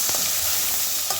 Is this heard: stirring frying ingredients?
yes